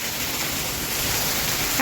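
Steady hiss of heavy rain falling continuously in Wadwani, Beed, a dense even wash of noise with no breaks.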